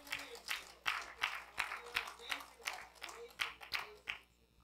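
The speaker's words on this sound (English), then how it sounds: "give the Lord a hand clap." Church congregation clapping for the Lord during a sermon, a steady run of about a dozen sharp, rhythmic hand claps in a roomy hall, fading out at the end.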